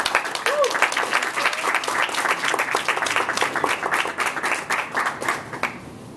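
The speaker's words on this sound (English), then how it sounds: "I would like to open with a warm applause" An audience applauds at an evening talk at the Center on Halsted. Dense, sustained clapping from many hands carries on for several seconds, then begins to thin near the end.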